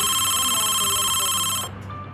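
A mobile phone ringtone plays loud and close, with a steady repeating electronic tone that cuts off abruptly near the end, leaving quieter background sound.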